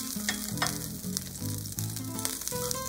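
Chili sizzling and frying in cooking oil in a pan, a steady loud crackling hiss with occasional stirring, no voices.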